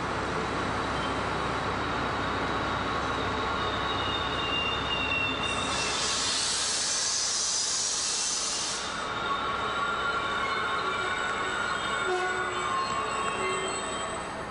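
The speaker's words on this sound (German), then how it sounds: "Der Regionalzug nach Zwickau ist eingetroffen." A regional train with a double-deck cab car pulls into a platform at Chemnitz Hauptbahnhof, its wheels squealing and brakes hissing in a sustained, loud rumble, with a sharp high shriek rising midway before settling.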